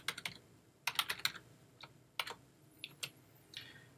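Computer keyboard typing of a terminal command: quiet, irregular bursts of crisp key clicks close by, with short pauses between groups of keystrokes.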